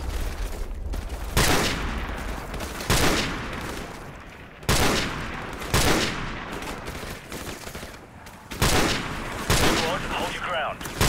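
M249 SAW machine gun bursts in Call of Duty: Modern Warfare Remastered, loud sharp volleys repeating every second or so with short gaps, layered over battlefield noise.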